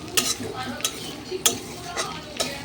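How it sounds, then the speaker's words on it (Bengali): Panch phoron spices fry in hot oil in a pan while being stirred for a home-style vegetable dal, with sharp, regular scraping strokes of a spoon over a low, steady sizzle, close and fairly quiet. "এখন মশলাগুলোকে আমি ভেজে ভেজে নিচ্ছি দেখো"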